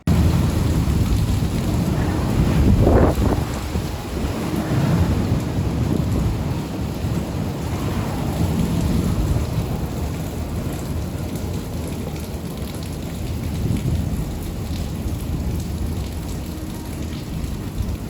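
Heavy typhoon rain pours steadily in Okinawa, with gusting wind and low rumbles of thunder rolling through the roar, loud and continuous with surges in intensity and no talking.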